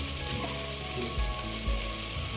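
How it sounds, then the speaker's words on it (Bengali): Chicken 65 fries and sizzles in a pan, making a dense, close crackle with a couple of soft thuds as the pieces are stirred. "এটা আমার ভাজা হয়ে এসেছে।"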